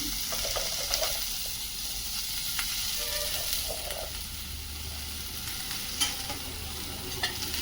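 Vegetables are stirred with masala in a frying pan for Bhogichi Bhaji, a steady close sizzle under repeated scrapes and clinks of the spoon, with no talking.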